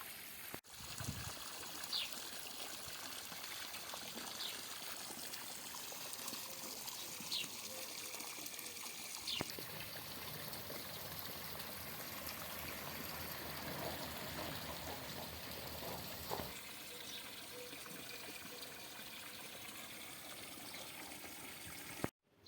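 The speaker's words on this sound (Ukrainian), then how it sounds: "Ну і набираємо воду." Steady running water pouring and splashing continuously from a hose into a newly dug backyard pool lined with plastic sheeting, with faint trickling detail and a few small knocks.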